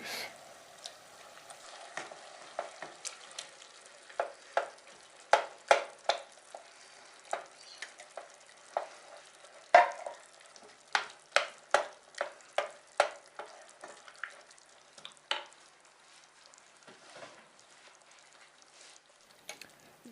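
Whole peeled tomatoes tipped onto browned beef mince for chili con carne, with repeated sharp scrapes and clacks of a spoon stirring through a soft sizzle, close and steady for the whole stretch.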